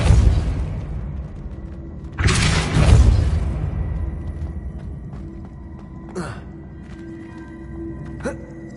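In Hogwarts Legacy, the Depulso spell is cast with a deep booming blast and a rumbling surge, then fades into game ambience with a few sharp magical bursts.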